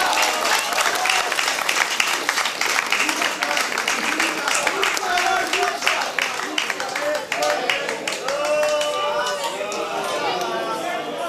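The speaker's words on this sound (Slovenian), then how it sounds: "dajmo en velik aplavz" Sustained crowd applause at a football marathon trophy ceremony as the Komenda girls' team receives the second-place cup, dense clapping mixed with chatter and voices throughout.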